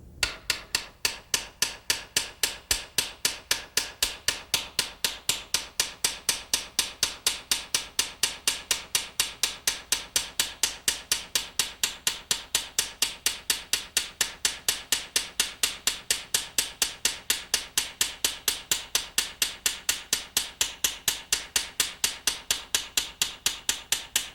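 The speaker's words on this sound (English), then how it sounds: "We'll just take a polished ball peen hammer and just peen this out until it's nearly all gone." Polished ball peen hammer peening metal on a gun part in a gunsmithing shop, a fast steady run of sharp metallic taps, well over a hundred evenly spaced strikes, close and clear with no talk.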